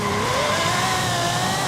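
Mercedes-Benz SL65 AMG Black Series launching in the Forza Horizon 5 video game at about 4,800 rpm, with a loud, steady revving engine roar and a brief tire chirp as it pulls away.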